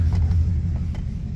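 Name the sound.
1998 Dodge Ram 1500 truck engine and exhaust running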